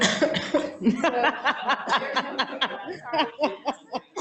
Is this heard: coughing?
yes